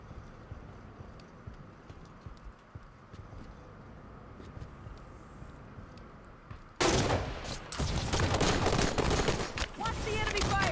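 Enemy gunfire in a multiplayer shooter game erupts in a loud burst of rapid shots partway through, following a quieter stretch of ambient game noise and faint distant pops.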